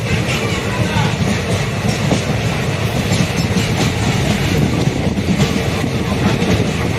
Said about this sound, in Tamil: நமக்கு ஏற்ற ட்ரெயின் நின்றுட்டு இருக்கு பாருங்க.